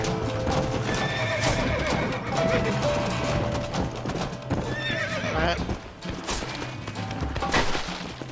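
Hooves clatter rapidly while horses whinny and neigh over a busy, loud mix of sound effects and music from the video game Red Dead Redemption.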